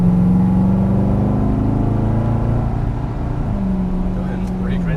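A Chevrolet Corvette Stingray on a race track drones with a steady, loud engine tone heard from inside the cabin, the pitch dipping and then rising again as the throttle is squeezed, while an instructor talks over it.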